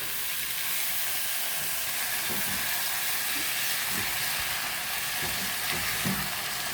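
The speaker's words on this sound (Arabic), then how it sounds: "هفضل اقلب فيه برده كده، هشوحه بالبصل بالبهارات اللي انا نزلتها، بهارات الكبسه" Rice stir-fried with onions and kabsa spices gives a dense, even hiss of frying that runs throughout, with a few soft stirring knocks late on and no voices.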